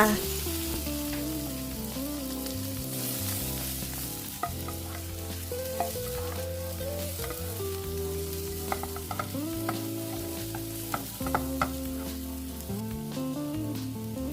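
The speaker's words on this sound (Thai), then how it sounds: "เมื่อผัดจนพริกกับกระเทียมมีกลิ่นหอมแล้ว เราก็ใส่ในส่วนของกุ้งลงไปค่ะ 4-5 ตัว" Shrimp stir-fried with chili and garlic in a wok, a continuous loud sizzle with rhythmic scraping and tossing of a spatula, played under background music.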